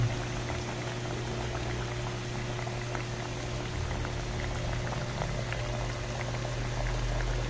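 A pot of paksiw na bilong-bilong fish simmers steadily, a continuous bubbling boil with soft popping, close and even from start to finish.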